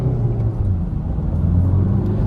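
A 2015 Honda Civic 1.6 diesel engine accelerates, its steady low rumble and whir holding loud and close throughout with no other sounds over it.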